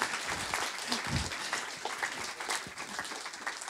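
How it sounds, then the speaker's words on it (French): An audience at a talk about fish applauds the conference speaker, a sustained, fairly faint patter of many hands clapping with a few scattered louder claps and murmurs. "je pense qu'il mérite vraiment qu'on l'applaudisse"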